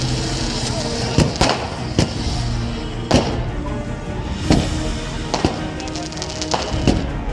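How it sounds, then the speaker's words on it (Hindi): Fireworks set off by BJP party workers celebrating an election win in Ajmer, a string of sharp cracks and bangs at irregular intervals over a constant noisy background with crowd sound. "ऐतिहासिक जीत होने पर अजमेर में बीजेपी कार्यकर्ताओं ने आतिशबाजी की।"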